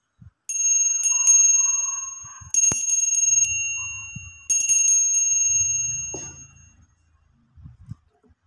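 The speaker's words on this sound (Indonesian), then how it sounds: "tanda lonceng berbunyi." A small bell is struck three times, each a bright ringing chime that decays slowly before the next, followed by faint handling noises and quiet pauses.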